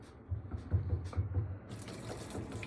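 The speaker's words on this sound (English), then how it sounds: "I'm going to go ahead and simulate a leak here at my kitchen sink" Steady running water from a kitchen sink faucet into the sink, a soft continuous splashing with a low rumbling undertone, fairly close, no talking.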